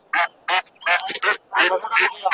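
Several loud, nasal duck quacks in quick bursts, close by at a bird market, with a short pause between calls and a quick run of quacks at the end.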